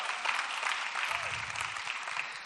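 An audience at a Christian conference session claps in a sustained, even wash of applause, moderately loud and filling the whole moment without talk.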